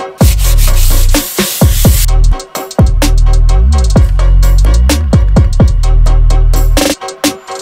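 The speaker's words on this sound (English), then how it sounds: "To prep the canvas, I put a layer of acrylic gesso and then sand it to get a smooth," Sandpaper scrubs across an acrylic gesso-coated canvas in quick, repeated back-and-forth strokes, loud and close with brief pauses between bursts.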